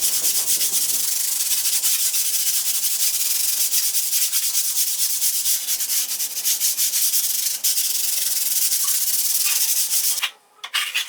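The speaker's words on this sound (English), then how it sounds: "To sand it down, I'm using 80 grit sandpaper." Polyfiller on a kitchen wall is hand sanded with 80 grit sandpaper, a close, loud and continuous rasping rub that pauses briefly near the end.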